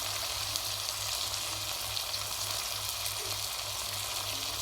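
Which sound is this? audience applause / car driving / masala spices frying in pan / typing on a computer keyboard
masala spices frying in pan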